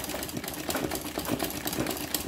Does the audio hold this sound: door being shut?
no